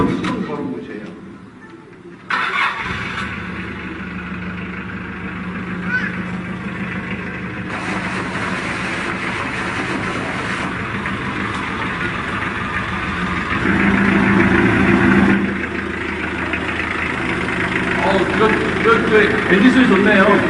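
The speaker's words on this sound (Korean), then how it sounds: "엔진 소리 좋네요." Motorcycle engine starts and settles into a steady, continuous idle that swells slightly louder near the end, with people talking over it throughout.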